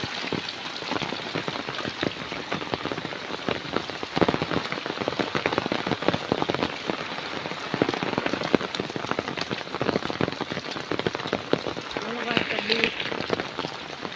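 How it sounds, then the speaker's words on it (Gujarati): Morning rain falls steadily on the way to a river, a dense continuous patter close by with voices talking over it at times. "અમે વરસાદમાં આજે સવાર સવાર નદીએ જઈએ છીએ"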